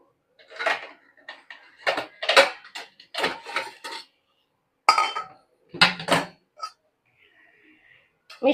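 A metal lid is set over a pan of frying pumpkin on a home kitchen stove, giving several sharp clinks and clatters of pot and lid in uneven bursts, close and fairly loud.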